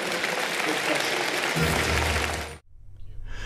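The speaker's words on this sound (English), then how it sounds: "Round of applause for Senator Kaine." Town hall audience applauding Senator Tim Kaine at a Virginia Senate debate broadcast; loud, dense clapping from a crowd runs for a couple of seconds, then cuts sharply as the broadcast switches to quieter sound.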